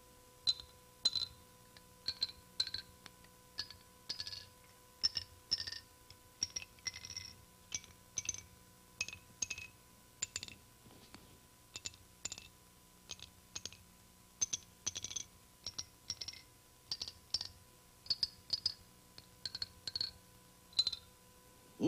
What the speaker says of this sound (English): An array of sticks cut to certain length. Cut to certain length, and I'm going to drop them successively.